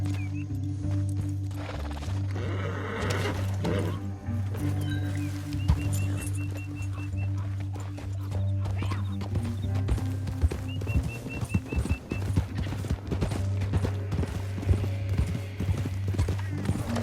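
Horse hooves clip-clopping steadily in Red Dead Redemption 2, a continuous rhythmic trot on a canyon trail with occasional whinnies and snorts over a low ambient hum, moderately close and unbroken throughout.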